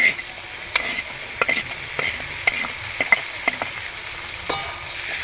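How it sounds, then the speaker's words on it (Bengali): Spoon stirring spiced potato and pea curry with ginger, garlic and green chilli paste in a pan, soft sizzling throughout with irregular scraping clicks, close and fairly quiet. "এবারে যে মশলাটার সাথে আমি ভালো করে এইভাবে মিক্স করে নেব বন্ধুরা"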